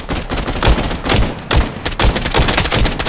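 Gunfire in the VR battle royale game Contractors Showdown: a loud, close, rapid string of shots in several bursts with short gaps between them, dense and punchy throughout.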